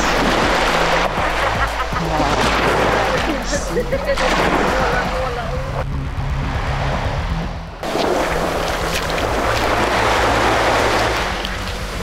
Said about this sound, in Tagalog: So kanina umaga hindi ganito kalakas yung alon.